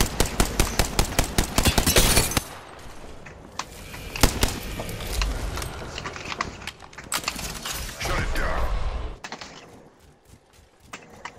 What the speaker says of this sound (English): I shot the worst gun.